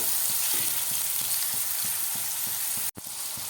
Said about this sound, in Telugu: ఆనియన్ అదే వేసేస్తున్నానండి ఆయిల్లో ఆయిల్ వేడెక్కింది